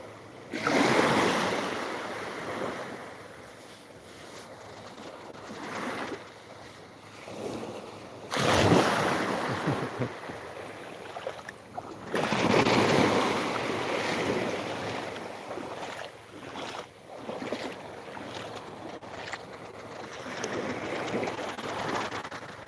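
Ocean waves surge and wash onto a Thailand beach in repeated broadband swells. Wind buffets the microphone throughout, and no one speaks.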